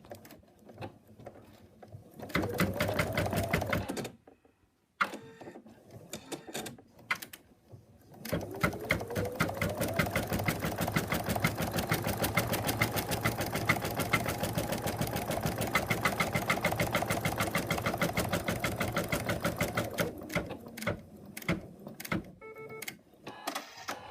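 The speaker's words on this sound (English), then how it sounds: "And then we take it to the machine and stitch it." A sewing machine stitches a toy moose's head in a long steady run of rapid mechanical chatter, with a short burst, a pause and a brief start before the main sustained stretch, fairly loud and close with no talking.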